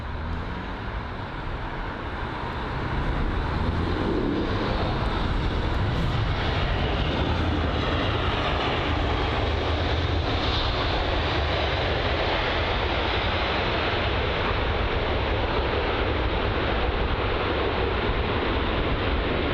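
An Airbus A320 arriving at London Heathrow, a broad continuous jet roar that swells in after a few seconds and holds steady and loud, with no talk.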